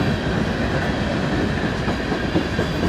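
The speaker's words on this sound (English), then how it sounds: "there's the end of the train." A BNSF freight train rolls past at the Ashland, Nebraska wye, a loud, steady rumble with faint clickety-clack of wheels, heard alone and close.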